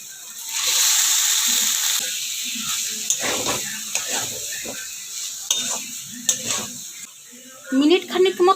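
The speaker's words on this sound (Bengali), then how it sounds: "পটল আর আলু ভাজা দিয়ে দেব।" Fried pointed gourd and potato pieces land in hot masala and set off a loud, hissing sizzle that slowly fades. Spoon stirs and scrapes follow, and a voice cuts in briefly near the end.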